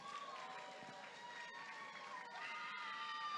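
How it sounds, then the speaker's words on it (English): Audience applause at the Miss World Nigeria pageant, a dense, steady wash of clapping with cheering and whoops from a large crowd, sustained throughout. "Can we make the applause louder?"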